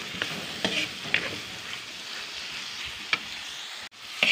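Sautéed bitter gourd with fish, tomato and onion sizzles steadily in a pan, broken by close scrapes and taps of a spoon being stirred through it.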